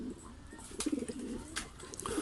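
A homing pigeon that has just flown back coos softly and close by, a few low, rolling murmurs over quiet background noise, with no speech.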